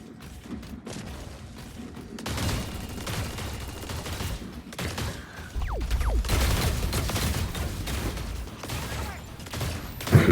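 Mecha firing weapons in Super Mecha Champions, a sustained clatter of rapid gunfire and bursts building from quiet to a busy, moderately loud barrage with mechanical clanks and a sharp burst at the end.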